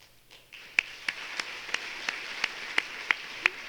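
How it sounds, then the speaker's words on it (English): Sparse, spaced claps ring out one at a time over a steady room murmur at an awards ceremony, a thin smattering of applause rather than a full ovation. "a big round of applause after that"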